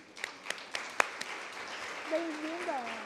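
An audience greets a speaker at a talk with a few scattered, distinct claps early on, and a voice then starts speaking.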